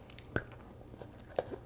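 Trader Joe's dark chocolate is bitten and chewed close to the mouth, with two distinct crisp bites about a second apart and soft mastication in between, no talking.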